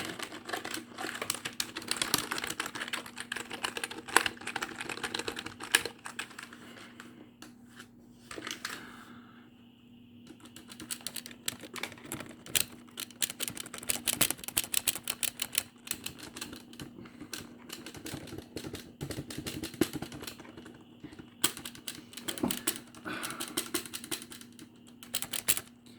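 Fast, continuous clicking of computer keyboard keys, close and crisp, with dense clattering bursts and a brief lull midway over a low steady hum; no voices.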